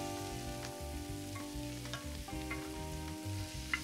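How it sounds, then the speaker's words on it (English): Shell-on shrimp turned in a hot pan with sauce until pink, a steady close sizzle and frying hiss with soft stirring scrapes throughout, a low background hum underneath, no talk. "I'm just turning the shrimp in here until it turns pink."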